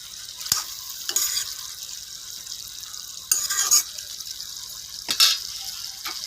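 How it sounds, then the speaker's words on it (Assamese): Pumpkin and potato fry in a pan under a soft, continuous sizzle, broken by a few brief bursts of stirring and scraping close by, with no speech. "এতিয়া মই ঢাকনখন আঁতৰাই চাম, অলপ লৰাই দিম।"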